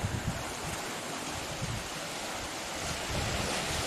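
Sea waves on the Ibiza coast, a steady, loud broadband wash of surf mixed with heavy wind rumbling against the microphone, with no talking.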